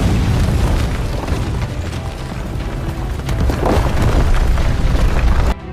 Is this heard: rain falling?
no